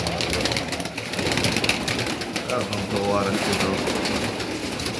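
Pigeons coo softly amid a busy backdrop, with someone talking over them throughout and a steady outdoor hum.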